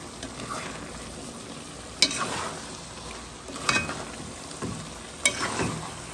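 Generous pieces of swordfish simmering gently in their own juices in a pan, a steady low sizzle broken by a few sharp utensil clinks and stirring scrapes.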